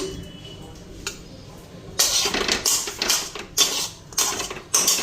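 Cooked taro stems are scooped from a pot into a bowl with a metal spoon. After a quiet start, a run of sharp clinks and scrapes of metal on the pot comes at close range.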